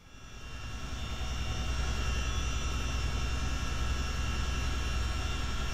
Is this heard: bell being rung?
no